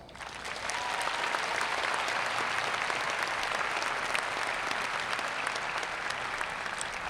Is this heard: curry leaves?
no